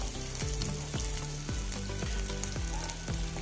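Crushed ginger and curry leaves hit hot oil in a pan with dried red chillies for a North Indian dal curry, giving a loud, steady sizzle broken by a regular scrape of stirring about every half second.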